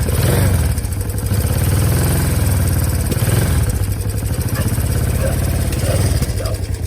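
A motorcycle engine with carburetors and stock mufflers idles steadily with a deep, continuous low rumble that rises slightly in a few gentle swells, close and loud throughout.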